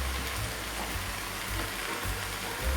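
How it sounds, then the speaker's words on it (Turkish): Vegetables for a potato and carrot winter soup being sautéed in a pan, a dense, steady sizzle of frying close up with faint scraping of stirring, continuous for the whole stretch without talk. "Şöyle biraz kavurayım."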